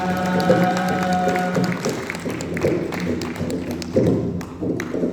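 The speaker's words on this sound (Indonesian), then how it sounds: "Tepuk tangan yang meriah." Applause rises at a Madihin performance during a program launch event, scattered claps and taps with some cheering over a tonal musical hum, moderately loud with uneven surges.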